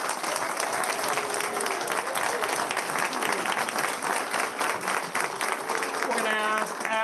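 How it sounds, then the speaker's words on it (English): Sustained audience applause at a school board meeting, dense clapping throughout for a group of students and their teacher, with a voice and a short musical sound rising near the end. "we're gonna thank these ladies again with one more big round of applause"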